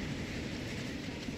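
A train rolls steadily along rails in the video game Transport Fever, a faint, even rumble with no clear clicks or voices.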